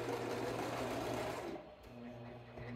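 A sewing machine stitching an apron made from bed sheets, running in a steady loud whir that stops partway through, followed by softer handling sounds and a low hum.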